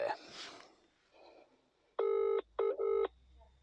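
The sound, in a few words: telephone number being dialed for a phone call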